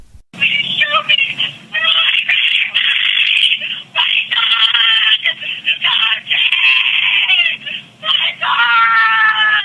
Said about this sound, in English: can be heard screaming during her arrest